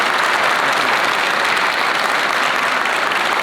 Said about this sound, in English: Everybody give Joshua Schroeder a hand clap.